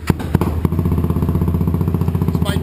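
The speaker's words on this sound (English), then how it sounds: "fire up the bike and rev that bad boy up" A limited edition CBR 250 motorcycle fitted with a Delkevic exhaust pipe runs close by, giving a few sharp throttle blips and then a steady, thumping engine pulse.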